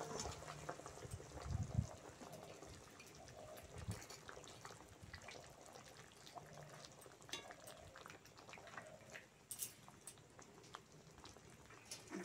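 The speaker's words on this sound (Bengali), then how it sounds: "ঝাল ভালোভাবে ফুটে গেছে" Fish and potato curry gravy bubbles in a pan, a soft, steady simmer of small pops and gurgles with a few louder clatters of cookware.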